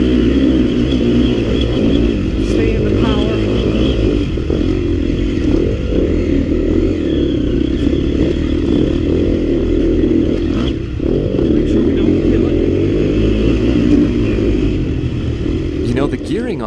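Yamaha YZ250FX dirt bike ridden in second gear on a trail, its engine a steady loud drone with clattering and rattling over rough ground throughout, and a voice talking over the top.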